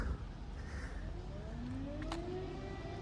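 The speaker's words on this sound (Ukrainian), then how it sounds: "Ось ви можете чути. Знову почалась повітряна тривога." Air raid siren wails across Kyiv, a faint, distant rising tone heard over steady outdoor street hum.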